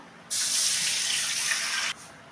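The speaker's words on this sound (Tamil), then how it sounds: "இப்போ தண்ணி விட்டுருவோம்" Water poured into a pan while making kesari, a steady close hissing pour lasting about a second and a half, with no talking.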